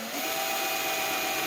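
A drill grinds steadily through a spot weld on a 1941 Hemi Dodge truck, a continuous close whine with a high tonal edge lasting the whole moment.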